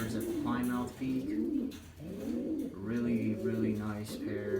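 Racing pigeons coo in a breeder loft aviary, with several low, rolling coos overlapping in repeated phrases, close and moderately loud, and faint voices in the background.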